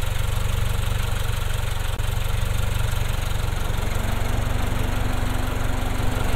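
A 2023 Toyota GR86 Premium with 6-speed manual, its Subaru-built 2.4-liter flat-four idling steadily under an open hood while warm, with a cooling fan whirring up partway through; a constant, close, even engine drone.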